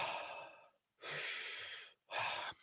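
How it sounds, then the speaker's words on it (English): Three slow, deep breaths, airy and breathy, each drawn in for nearly a second with short silent pauses between, faint and close as in a voice projection exercise. "Take a deep breath in and really expand that section with the breath."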